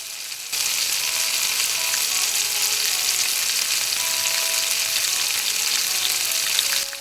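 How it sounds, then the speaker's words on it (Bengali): Raw mango pieces coated in sugar hit hot oil with panch phoron, bursting into a loud, dense, continuous sizzle that holds steady throughout after a brief quiet start. "এবার এখানে দিয়ে দিচ্ছি আগে থেকে চিনি দিয়ে মেখে রাখা আমগুলোকে"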